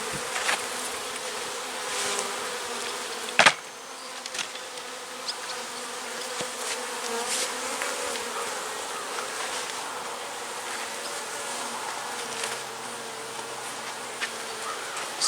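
Honeybees buzz in a dense, steady drone close by as frames are shaken into a box while splitting a hive, with one sharp knock partway through.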